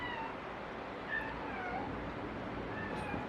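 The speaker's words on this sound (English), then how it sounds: "that's the one that's crying" A distressed cat cries in a few thin, wavering meows over a steady outdoor background hiss, faint and somewhat distant, with no one talking.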